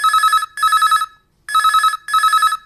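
An incoming call on a radio phone-in show rings loudly, its electronic telephone bell sounding in two pairs of rapid trilling bursts separated by short pauses.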